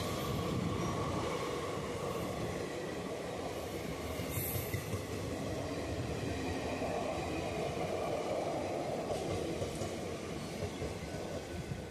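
The Rani Shiromani Express (train 18004, Adra Junction to Howrah) runs past on an Indian railway line, a loud, close, steady rumble of wheels and carriages that fills the whole stretch without a break.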